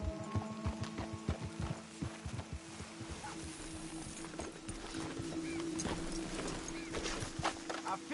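Horse hooves clip-clop on a road in a video game, with several horses moving at a walk. The hoofbeats are fairly close and blend with a low ambient hum and speech.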